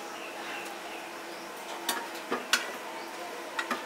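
Whole cloves, cardamom and cinnamon hit hot mustard oil in a pan, giving a few faint, scattered ticks and pops over a low, steady background.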